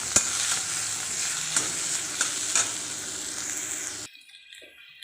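Chopped onion sautés in a hot pan with oil, giving a bright, steady sizzle with occasional stirring clicks for about four seconds before the hiss cuts off abruptly into near silence.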